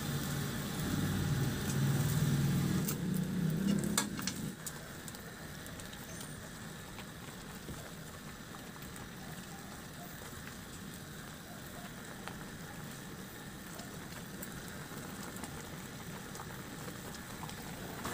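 Coconut milk simmering with fried tilapia in a pan, a steady soft bubbling hiss that runs throughout, louder and fuller for the first few seconds then settling into a quieter, even simmer, with no talking.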